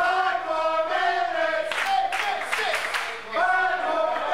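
A wrestling crowd at an RWA Hype indie show cheers and shouts in short broadband bursts, fairly loud, mixed under a commentator's voice that runs through the clip.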